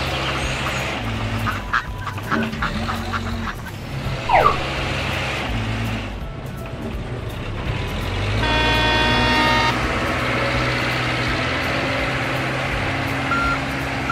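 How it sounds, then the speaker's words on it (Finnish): A toy tractor's engine rumbles steadily, rising louder partway through, with a few honking goose-like calls and a brief beeping tone mixed in. "Tämä on traktori. Se ajaa töihin."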